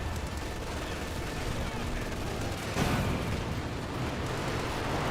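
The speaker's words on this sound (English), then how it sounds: "Panzerwerfer barrage, close range Panzerwerfer" A Panzerwerfer rocket barrage in Company of Heroes 2 rumbles under ongoing battle noise, with a sharper burst of impacts about midway, while a commentator talks over it.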